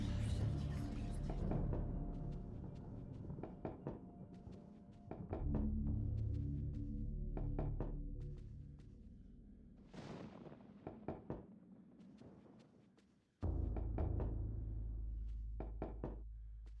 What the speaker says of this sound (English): knocking on this cask results in a hollow thud